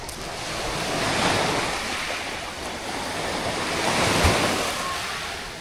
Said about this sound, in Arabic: هذا أصغر وأجمل ساحل بمدينة ألانيا